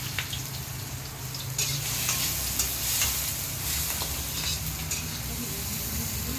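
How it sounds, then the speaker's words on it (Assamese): Chopped tomatoes stirred into onions and chillies frying in a pan: a steady close sizzle with scraping stirring strokes throughout. "পিঁয়াজখিনি ভজাৰ পাছত বিলাহীখিনি দি দিলোঁ"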